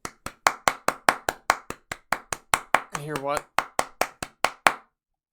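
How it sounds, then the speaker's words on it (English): A steady run of sharp hand claps, about four per second, with a voice briefly speaking partway through. "We heard a singular clap."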